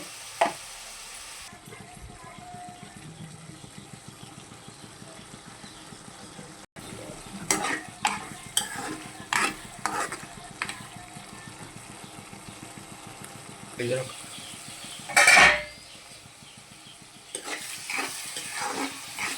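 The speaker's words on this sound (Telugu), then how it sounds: "బాగా దోరగా వేగినాయి ఉల్లిపాయ ముక్కలు" Chopped onion pieces with a spoonful of salt sizzle in a hot pan, with intermittent scraping stirs growing busier midway and a louder clatter near the end, no talking.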